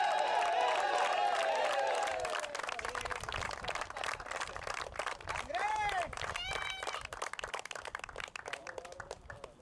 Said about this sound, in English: Please give a big hand of applause for Jishnu.